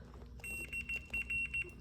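A high-pitched continuity beep from a digital multimeter with its probes touching sounds in several short repeated pulses, fairly close, over a low background hum.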